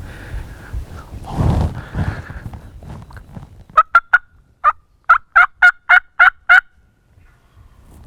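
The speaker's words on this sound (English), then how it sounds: "I just watched him gobble." A wild turkey gobbles outdoors during a late-season hunt in Pennsylvania, a rapid series of about ten sharp, rattling gobble notes at moderate distance after some rustling and faint movement noise.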